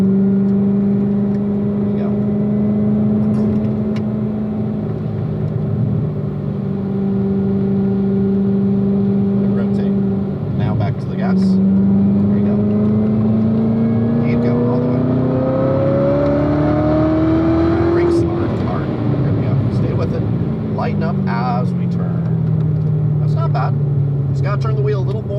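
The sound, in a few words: car accelerating through a cone course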